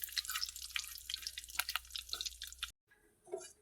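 Biryani masala fries quietly in hot oil with bay leaves and curry leaves for chicken biryani, a faint, close crackle and sizzle with scattered pops that cuts off abruptly near the end.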